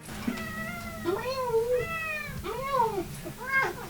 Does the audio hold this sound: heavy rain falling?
no